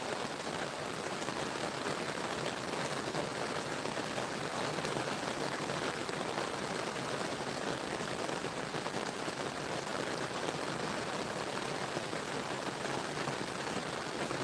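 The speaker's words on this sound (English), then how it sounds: "I thought you guys might like the sound of the rain." Steady rain falls on a watertight shelter at night, a dense, even hiss that holds at a constant level with no pauses and no voices.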